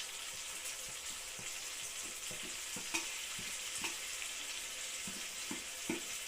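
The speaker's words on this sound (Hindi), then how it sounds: "अब मैं इसमें जो है अभी टमाटर डालूंगी" Tomatoes fry with a roasted masala in a pan for dal makhani, giving a faint, steady sizzle. Spoon strikes and stirring scrapes recur every second or so, close by, with no talking.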